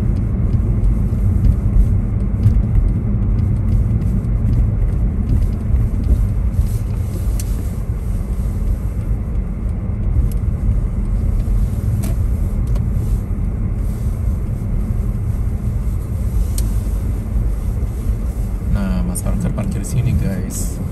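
A car rolls in to park near a bridge by the frozen Saskatchewan River in Canada, a continuous low engine and road rumble under ongoing talk from people inside.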